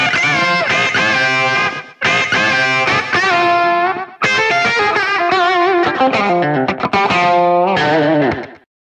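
Rockabilly country solo on an electric guitar through a Line 6 Helix set to a Fender-style driven tone, bright twangy bends and quick runs in loud phrases with brief gaps.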